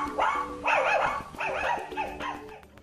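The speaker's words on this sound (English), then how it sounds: "D. Dog." A dog barks several times in quick succession, loud and close, with a few higher yips mixed in and no talking.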